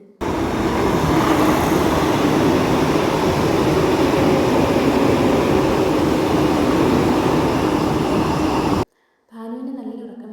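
A Vande Bharat express train rumbles loudly and steadily through Payyanur railway station for several seconds, then cuts off abruptly, leaving a quieter voice-like sound at the end.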